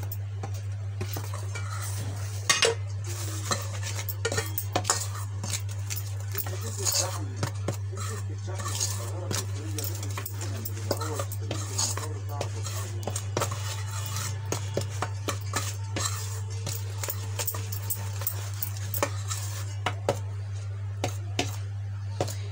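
Dry petit four dough ingredients, made without baking powder, are stirred together in a bowl, with light scattered clinks and scrapes over a constant low hum.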